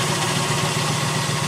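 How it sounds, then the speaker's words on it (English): A 1963 Buick Riviera idling steadily with a mellow, moderate exhaust note, a continuous even rumble close to the car with no taps or knocks and no voices. "The exhaust note is very pleasant."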